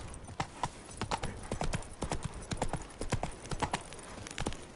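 Hooves of Roach, the horse in The Witcher 3, clip-clop in a brisk, steady rhythm of close, sharp strikes, with a faint voice briefly under the steps in Toussaint.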